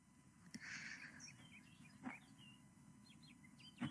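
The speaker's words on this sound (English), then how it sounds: "I hear birds chirping." Birds chirp in the video game Kingdoms of Amalur: short, faint, scattered tweets and calls over a quiet ambient bed, with a few soft thumps and no voices.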